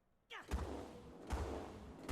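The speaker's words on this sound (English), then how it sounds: "Big, booming railgun sound effect." A railgun in the Guild Wars 2 game fires with a sudden whooshing surge, then three booming shots at roughly even intervals, close and fairly loud, with no talk over them.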